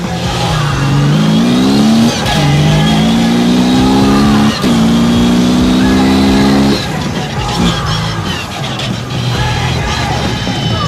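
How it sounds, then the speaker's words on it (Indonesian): A Jeep Cherokee off-road race car with a dogbox transmission revs hard and close. It climbs through rising engine pitches with quick clutchless gear changes and a brief drop between pulls. "Jeep Cherokee ini menggunakan transmisi dogbox, di mana saya bisa melakukan shifting atau mengoper gigi tanpa perlu menginjak kopling"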